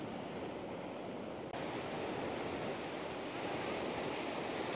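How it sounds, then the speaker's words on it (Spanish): Ocean waves wash steadily onto a Pacific shore at La Jolla, a continuous broad roar of surf with a slight swell partway through and no voices. "estar aquí a la orilla, ¿verdad?, y escuchar las olas"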